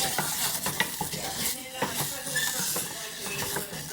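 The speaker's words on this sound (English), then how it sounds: "Just going to fry this for a second." Garlic sizzles in a hot pan while a utensil stirs it, making repeated scraping clicks and taps against the pan over a continuous frying hiss, close and fairly loud.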